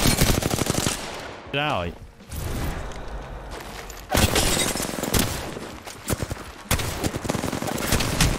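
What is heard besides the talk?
gunfire in video game Apex Legends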